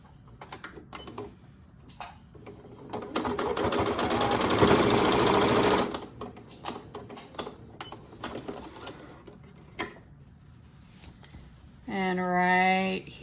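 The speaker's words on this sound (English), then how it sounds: "We're going to match the seams together right here and sew straight across." Home sewing machine stitching a drawstring bag seam straight across, a dense steady mechanical whir for a few seconds amid handling clicks, with a voice speaking briefly.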